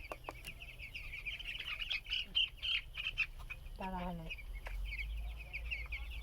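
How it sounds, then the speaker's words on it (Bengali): Ten-day-old broiler chicks peep in a busy, high-pitched chorus of short repeated chirps close by, while a person's voice briefly cuts in partway through. "এখন আমার ব্রয়লার মুরগির বাচ্চার বয়স 10 দিন, একটা মুরগির বাচ্চাও মারা যায় নাই।"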